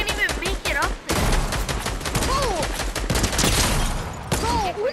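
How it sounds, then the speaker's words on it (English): Assault rifle gunfire in a lucky-block video game, a dense, continuous rattle of automatic shots layered with game effects while an excited voice talks over it. "I got a blue assault rifle!"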